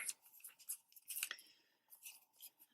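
Scissors fussy cutting around a printed motif on patterned craft paper, giving several short crisp snips in uneven bursts, close and fairly quiet, with no talking.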